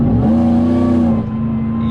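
A truck engine held at full throttle during an HP Tuners logging run: a loud, steady, close drone with a strong constant hum and rich harmonics, easing slightly near the end, with no speech.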